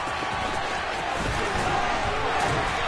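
A home crowd in a Madden football game gives off a dense, steady roar of cheering, loud and unbroken throughout, with a commentator's voice faintly underneath.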